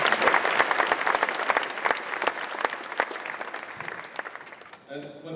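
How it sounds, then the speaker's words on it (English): A crowd applauds outdoors at a U.S. Army Basic Training graduation ceremony at Fort Benning, Georgia, a dense, loud burst of clapping that gradually thins and fades before a voice speaks at the end. "round of applause for Mother Nature"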